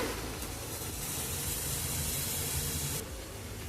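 Spring onion and beans sizzle in a pan for a vegetable paneer momo filling, giving a steady loud hiss of frying that drops slightly near the end, with no talking.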